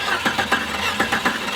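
Car engine cranking over on the starter during a compression test, a steady rhythmic chug of about seven or eight even compression pulses, close and fairly loud with no talk.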